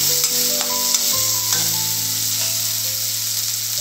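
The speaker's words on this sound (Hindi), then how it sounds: "थोड़ा सा जीरा, आधा चम्मच धनिया, थोड़ा सा गरम मसाला, इसको चला देते हैं।" Cumin, coriander and garam masala stirred into hot oil in a frying pan, a steady close sizzle with scraping stirs throughout, no voices.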